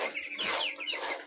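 Chickens cluck in a short burst, close and fairly loud, several overlapping clucks and calls with no talking over them.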